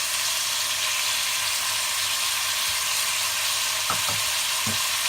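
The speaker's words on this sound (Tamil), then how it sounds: "எல்லாம் போட்டு நல்லா கிண்டி விடுங்க" Crab masala sizzles steadily in a frying pan as ground pepper-cumin powder, turmeric and chili powder are stirred in, with a few soft scraping knocks of the spoon near the end.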